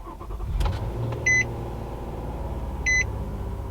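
A 2022 Nissan Murano SL starts up with a brief low engine rumble near the beginning, then settles into a steady idle broken by two short electronic chimes.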